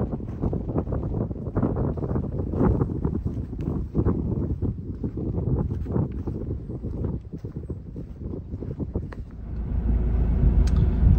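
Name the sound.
wind heard from inside a car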